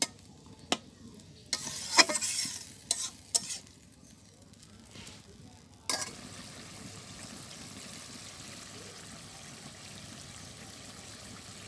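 Curry stirred and fried in a pan in a village kitchen: a few sharp spoon clatters and scrapes early on, then a quiet, steady sizzle and bubbling that carries on alone.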